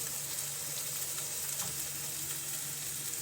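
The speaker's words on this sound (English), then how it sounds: "I am going to saute the onions." Onions sauté in a pan as a faint, steady sizzle that holds even and unbroken throughout, with a few soft bumps and no voices.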